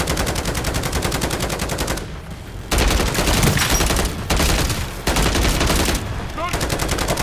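Sustained, loud automatic gunfire from a weapon in MW3 Zombies, firing in long bursts separated by brief pauses, close and dominant throughout.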